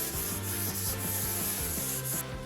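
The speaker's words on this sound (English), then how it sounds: "we can do is use a sanding sponge, give it a light sand" Steady, close rubbing of a sanding sponge over a primed surface in quick back-and-forth strokes, a continuous gritty scratching with no talking.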